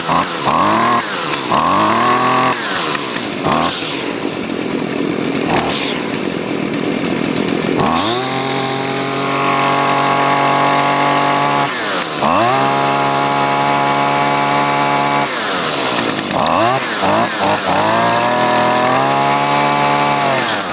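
Husqvarna or Stihl chainsaw, run after choke-off starting, revving repeatedly: loud, close high-pitched engine whine climbing and falling in several bursts with brief drops to idle between throttle blips.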